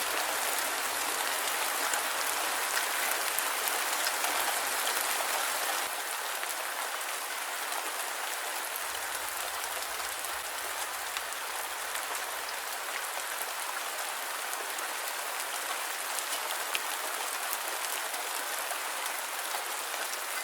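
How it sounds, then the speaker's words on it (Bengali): Heavy pouring rain falls steadily as a dense, constant broadband hiss, loud and unbroken throughout with no voices. "এদিকে শুরু হয়েছে প্রচণ্ড মুসলধারে বৃষ্টি"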